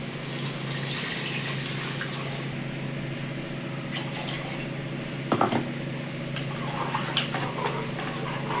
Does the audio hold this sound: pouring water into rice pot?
yes